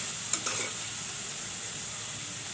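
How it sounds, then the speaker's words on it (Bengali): Red lentils fry in a pan with a soft, steady sizzle, a couple of faint clinks from stirring near the start, quiet and close. "মসুর ডালগুলো একটু ভেজে নিচ্ছি"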